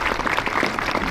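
Brief burst of dense crowd applause at a sixtieth anniversary commemoration of the rue d'Isly massacre in Algiers, loud and close, filling the whole short moment without any voices.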